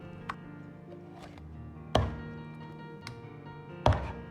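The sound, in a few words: cleaver chopping duck into pieces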